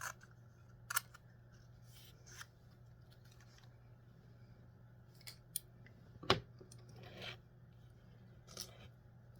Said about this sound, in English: because it's right in the corner, I'm just going to snip it right out